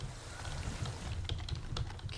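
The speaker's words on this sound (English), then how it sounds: "those keys aren't getting clicked very fast" Computer keyboard keys tapped slowly and unevenly by cold, numb hands, a run of soft close clicks with irregular gaps against a low background hum and no talking.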